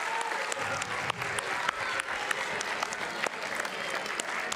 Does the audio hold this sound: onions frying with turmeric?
no